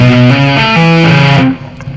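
Distorted electric guitar playing a fast pentatonic tapping lick, bright sustained notes shifting in quick steps, loud and close, ending abruptly after about a second and a half.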